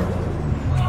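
A Toyota Supra's turbo blow-off valve releases a short, loud, breathy hiss that fills the whole moment at close range.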